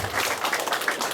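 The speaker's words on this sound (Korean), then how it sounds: "조기훈 우리 문화예술사님께 큰 박수 좀 보내주십시오" Brief burst of audience clapping for the lecturer at a lecture hall session, a steady patter of many hands at moderate volume with no talk over it.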